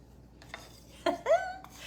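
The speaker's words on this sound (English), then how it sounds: "So let me stir this together." Carrot cake batter being stirred in a bowl, with a few soft scrapes and clinks of the utensil against the bowl, quiet and close, alone without talk.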